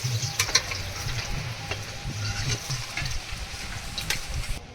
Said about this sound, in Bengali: পটলগুলো ভাজা হয়ে গেছে, নামিয়ে নিচ্ছি